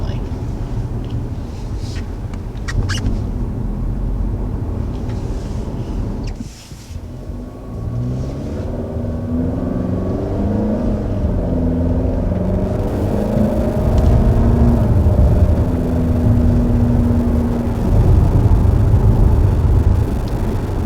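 Standard engine of a 2020 Nissan Altima AWD driving on the road, a steady low drone that dips briefly, then rises in pitch as it accelerates and holds a louder hum, with a faint tonal whine above.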